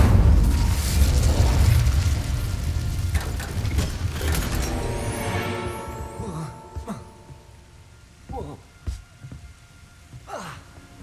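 Incendio fire spell cast in Hogwarts Legacy, a loud rumbling whoosh of flame that swells and slowly fades, followed by scattered smaller crackles and soft thuds.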